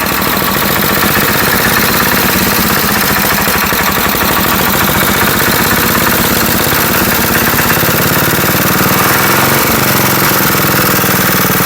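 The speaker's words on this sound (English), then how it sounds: "it does have a governor issue on it. I have to hold the arm back on it, otherwise it wants to rev to the moon." An old, previously abandoned Wisconsin engine with a faulty governor runs loud and steady close by, a continuous rough, knocking mechanical drone that surges slightly as it revs, with no talk over it.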